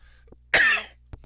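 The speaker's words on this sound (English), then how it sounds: "Let's find out after I do a quick cough." A single quick, sharp cough sounds close to the microphone, with a faint throat noise just before and a small breath after.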